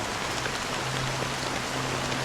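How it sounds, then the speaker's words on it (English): Steady rain falls in the Honkai: Star Rail game world, a soft even hiss of drops on surfaces with a faint low hum beneath, fairly quiet and alone. "How long has this rain been ongoing?"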